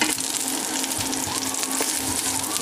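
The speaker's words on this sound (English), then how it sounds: "Okay, these are frying up nicely." Shrimp sizzle and fry steadily in a hot pan, a continuous close crackle and hiss with no talking.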